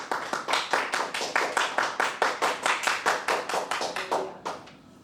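A church congregation claps in unison in a strong, fast, even rhythm of about four claps per second, loud and close, before stopping abruptly near the end.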